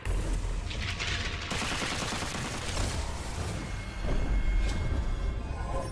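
Sustained, loud gunfire from the first-person shooter Witchfire: dense rapid shots run for about six seconds with barely a pause, alone without talk.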